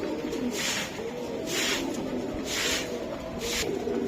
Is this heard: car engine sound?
no